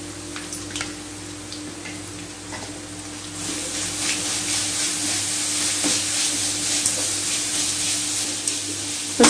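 Carrots sauté in a pan for carrot rice, a steady close sizzle with scattered ticking pops and occasional stirring clicks that grows slightly louder partway through, with no voices.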